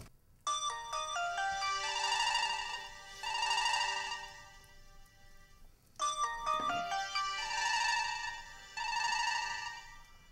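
A telephone rings in two clear electronic ringtone bursts separated by a short pause, loud and close, with no voices.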